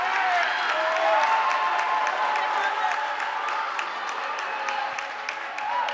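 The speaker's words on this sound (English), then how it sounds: "That got the crowd going a little bit" Basketball crowd at a high school game between Port Huron Northern and St. Clair cheering and applauding after an off-the-ball foul, a steady roar of claps and shouts filling the gym throughout.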